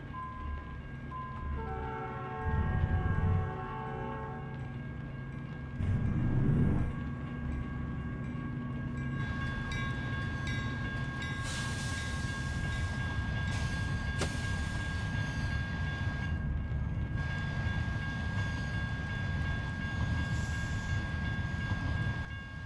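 A train rolls across a railroad crossing in a trucking video game, a loud steady rumble of wagons with ringing crossing bells and brief horn-like blasts near the start, continuing without talk.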